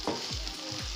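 Pre-fried okra goes into a pan of sizzling chicken, a brief soft frying hiss with a few quick stirring scrapes, faint and close.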